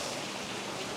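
Heavy tropical rain pours steadily outside a restaurant on the island of Siargao, a dense, even hiss with no gaps, alone without voices.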